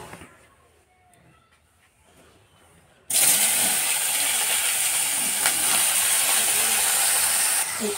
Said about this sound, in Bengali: এই পাশে বেগুনটা ভাজছি